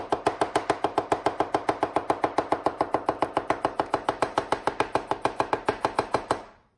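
A purpose-built knife chops steadily outdoors in a garden, about forty sharp, evenly spaced strikes in a fast regular rhythm, close and crisp, ending abruptly with no talk.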